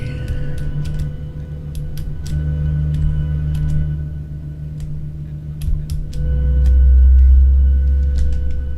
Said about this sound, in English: These are the new views where you can hear the engines from the back.